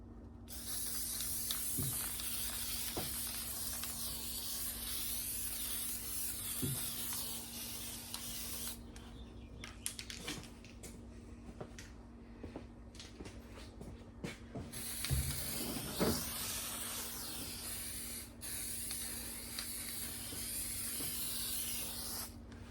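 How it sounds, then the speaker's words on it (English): Weld-through primer hisses from an aerosol can onto metal pieces during VW Beetle rust repair, in several long steady spray bursts broken by short pauses and faint clicks, with no talking. "hit both pieces with a little weld-through primer"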